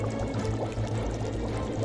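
Water stirring in a bucket, a continuous close sloshing and pouring-like swirl that holds steady and fairly loud for under two seconds with no voices.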